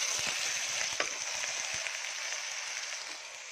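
A bunch of leafy greens goes into a pan of frying ginger, garlic, green peas and corn, and a continuous bright sizzle hisses steadily at close range with faint scattered crackles.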